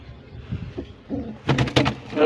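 Pigeons in a loft being handled and sorted, with soft cooing and flutter early on, then a burst of wing flapping and scuffling near the end, close and fairly loud.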